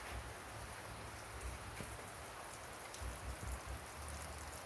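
Steady evening rain falls during gardening, a soft, even hiss of drops pattering on surfaces throughout, fairly quiet and uninterrupted, with no voices.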